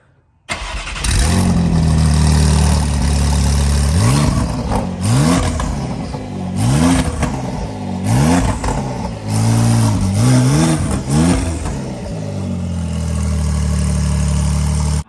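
Porsche-style GTS engine with its exhaust valves open, firing up abruptly and then blipped through a series of loud, rising and falling revs before settling into a steady idle, close and unaccompanied.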